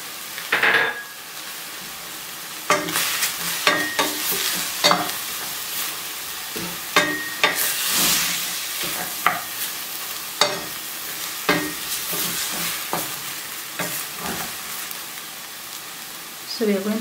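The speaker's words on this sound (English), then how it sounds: "So we are going to let the onions cook for about 2 minutes." White onion and onion stems fry in a pan, a steady sizzle broken by repeated scraping clacks of a utensil stirring, close and moderately loud.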